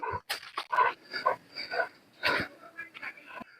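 A dog whimpers and whines in short, high, repeated bursts at close range, with a person's calling and clicking sounds mixed in between.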